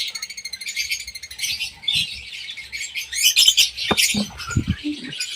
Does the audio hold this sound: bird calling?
yes